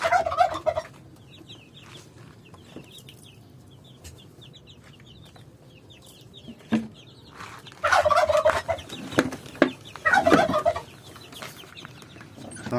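A rooster and many chickens on a poultry farm in hot weather: repeated clucks and squawks across the clip, with a rooster call and a louder burst of flock noise near the end.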